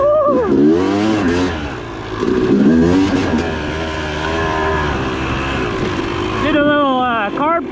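A dirt bike with a freshly cleaned Lectron carburetor ripping, loud revving engine that rises and falls in pitch through several pulls, close and raw, ending with another sharp climbing rev.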